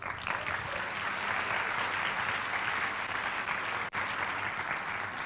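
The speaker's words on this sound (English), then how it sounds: "So let's give them a round of applause." A speech audience at the 7th USLS 2016 breaks into steady, dense applause that stays loud and even throughout, with one brief dip near the end and no voices over it.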